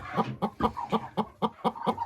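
A hen in a nest box clucks in a quick series of about nine or ten short, evenly spaced calls. The calls are close and fairly loud, with no talk over them.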